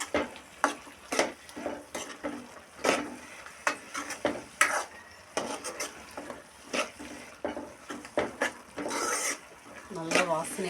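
Garlic and coriander being stirred through chicken gravy in a pan, a spoon scraping and rasping in repeated close strokes over a soft sizzle, with a brief voice near the end.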